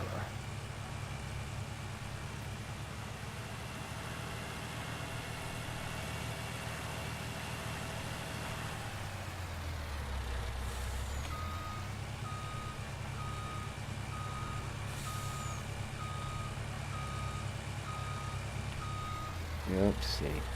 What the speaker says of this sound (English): Let's grab the little truck.